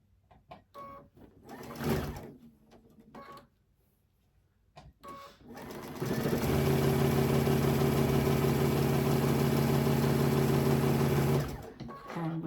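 A sewing machine stitches a quilt block, a few short bursts and handling noises first, then a long steady hum of continuous stitching for about five seconds, close.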